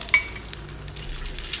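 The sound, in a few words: salted fish frying in a pan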